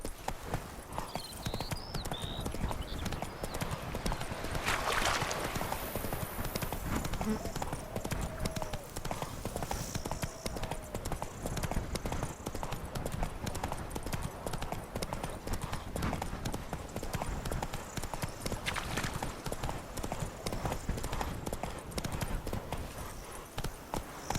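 Roach, the horse in the video game The Witcher 3: Wild Hunt, gallops with steady rhythmic clip-clop hoofbeats over a continuous outdoor game ambience, fairly quiet throughout with no voices over it.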